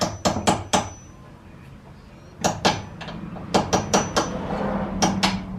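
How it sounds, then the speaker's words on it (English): Metal hammer striking a punch to drive a horseshoe clip into place during a Subaru Impreza WRX TEIN spring install, sharp ringing blows in quick bursts of three to four with short pauses between. "I'm going to get a punch in there to help you drive that in."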